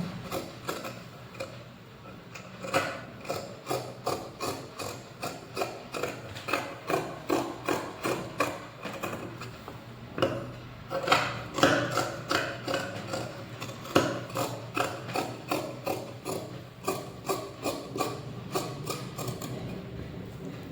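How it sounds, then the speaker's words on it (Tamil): Scissors cut through blouse cloth with a steady run of crisp, evenly spaced snips close by. The rhythm holds through the whole stretch, with no voices. "இப்போ நம்ம இந்த உள்ளே இருக்கிற கிளாத் எல்லாமே கட் பண்ணி எடுத்துக்கலாம்"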